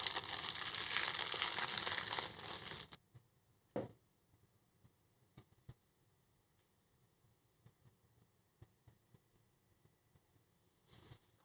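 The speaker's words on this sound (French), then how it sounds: "La première étape, on va le déballer." Cheese is unwrapped from its packaging, beginning with a loud crinkling burst of wrapper, then a sharp rustle and sparse quiet paper ticks and crackles, ending with one more brief crinkle.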